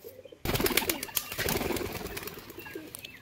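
Two pigeons let go from the hand burst into a flurry of wing flaps after a quiet moment, the loud, clattering beats fading as the birds fly off, with some cooing in the background.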